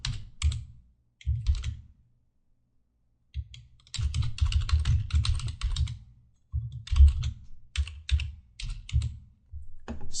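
Rapid bursts of typing on a computer keyboard as HTML code is entered, close and clear, with brief pauses between flurries of keystrokes.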